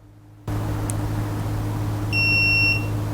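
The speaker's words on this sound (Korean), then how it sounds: "네, 이렇게 삑 하고 신호음이 울리죠." A steady high-pitched multimeter continuity beep rings for under a second over a constant electrical hum and hiss, testing a plug's ground connection.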